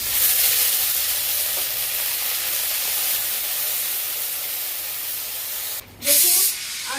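Ginger and green chili paste hits hot oil in a kadai with a loud, steady sizzling hiss. It dips briefly, then flares again in a fresh spattering burst near the end.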